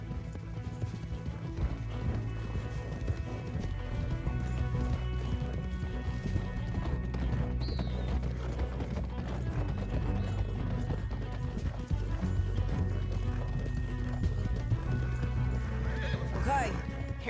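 Horses galloping in Red Dead Redemption 2 with steady rhythmic hoofbeats, occasional neighs and snorts, a continuous loud thudding bed under game music and characters talking.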